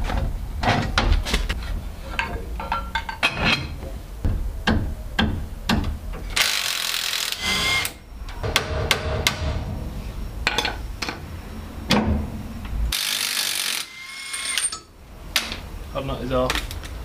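Ratchet clicking while a car wheel hub nut is undone during a wheel bearing job, bursts of rapid pawl ratcheting alternating with brief metallic clanks and gaps, close and fairly loud, without speech.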